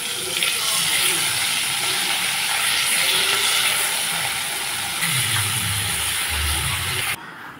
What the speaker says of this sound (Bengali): বাকি মাছগুলো আমি এইভাবেই ভেজে নেব হালকা করে